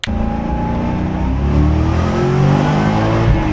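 A Corvette C6 Z06 race car sets off on a lap of the Nürburgring, its engine a loud, close, sustained drone that rises steadily in pitch as it accelerates.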